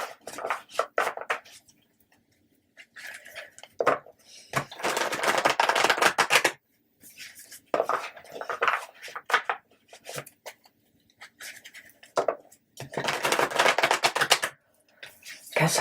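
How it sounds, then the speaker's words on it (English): Tarot cards being shuffled in repeated bursts of riffling and slapping, close and crisp, separated by brief pauses. "Guess I just want to give them a couple extra shuffles"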